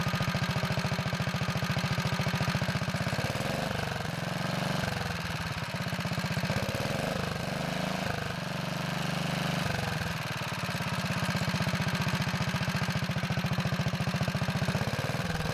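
A Kohler engine on a Wheel Horse 401 garden tractor idles steadily and loud, close by, with a brief dip in speed midway before it recovers to an even putter.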